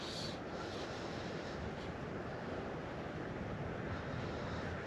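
Steady wind gusting by a river during fly fishing on a summer day, a constant broadband rush close to the microphone with no break, buffeting throughout.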